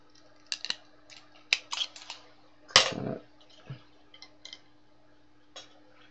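Scissors snip a plastic straw in a quiet room: several sharp, separate clicks and cuts with pauses between them, one louder crunching cut near the middle.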